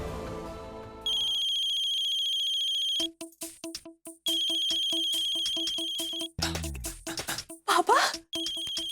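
A mobile phone rings with an incoming call, its electronic ringtone looping in repeated chimes after a brief musical opening, loud and close, with a few moments of overlapping sound near the end.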